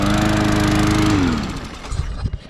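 A push mower engine, recently fixed after fuel problems, runs loud and close with a steady droning chug, then winds down as it is switched off, leaving a few faint clicks and rattles.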